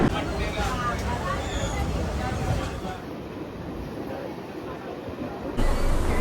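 A local train on the Dadar to Khopoli line rumbles steadily, with wheel and carriage noise filling the space, and the sound swells again near the end, alongside a murmur of passengers.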